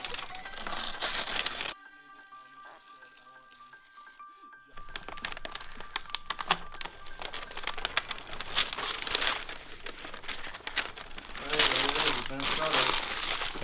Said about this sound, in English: it should just kind of peel off around the emblem